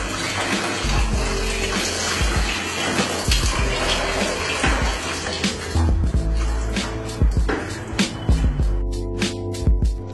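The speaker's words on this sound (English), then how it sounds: "you rotate the bottle and the water starts to gush out" Water gushes out of a plastic bottle slit with a box cutter, a loud continuous splashing rush that runs for several seconds with sharper spatters near the end.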